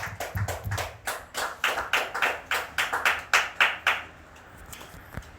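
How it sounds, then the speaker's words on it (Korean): A church congregation claps in praise, a run of crisp, evenly spaced claps that build slightly in strength and then stop abruptly, leaving near silence. "우리 하나님께 영광의 박수를 올리겠습니다"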